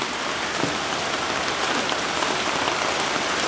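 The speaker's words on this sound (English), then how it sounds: "and now we see hail." Heavy rain mixed with hail falls in a dense, steady roar of drops striking hard surfaces, loud and continuous throughout with small sharper impacts scattered in.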